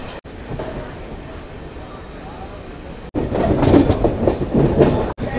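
A MEMU passenger train bound for Purulia rumbles and clatters steadily nearby as it passes through a station, the sound swelling louder in the second half, with faint background voices.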